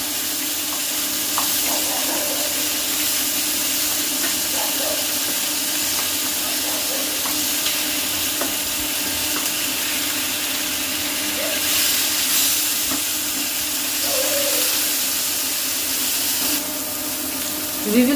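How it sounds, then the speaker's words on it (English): Rohu fish shallow frying in hot mustard oil, a steady close sizzle and hiss running throughout with small pops and crackles, no talk. "We will make a shallow fry for another half a minute."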